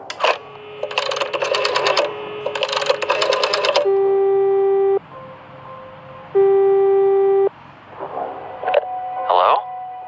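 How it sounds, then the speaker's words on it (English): Phone dialing in the Frequency Missing video game: bursts of keypad tones followed by long steady ringback tones, then a short electronic blip, loud and close with no talk. "A phone. Should I call Carl?"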